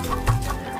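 Cartoon hens clucking on a farm: a short, close, loud burst of clucking and throaty chicken calls with no speech.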